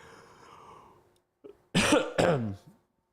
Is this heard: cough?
yes